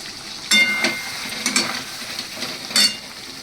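Milk curdling in a pan with chili oil is stirred, giving soft scraping and sizzling with a few brief louder clatters of the spoon against the pan.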